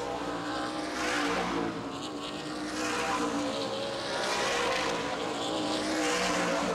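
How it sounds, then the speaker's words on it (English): Race cars roar together down the front stretch of a short oval at Baer Field Speedway, a loud continuous pack of engines swelling and fading as they pass, with no talk. "Back in the field, still a battle going on between the 33 of Francis, the 8 of Carlson, and the 1 of Baer as they come down the front stretch"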